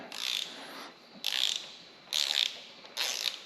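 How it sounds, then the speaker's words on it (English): Ratchet wrench tightening bolts to 18 foot-pounds on a Toyota Camry 2AZ engine during oil consumption repair: four bursts of rapid clicking, each under a second long, close and fairly quiet, with short pauses between them. "now we are going to go ahead and tighten these to 18 foot-pounds"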